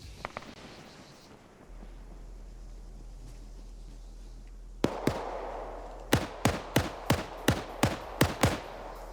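Gunfire in a military video game, a series of sharp cracks in an irregular cadence, about a dozen reports coming in a quickening cluster over steady wind-like background noise.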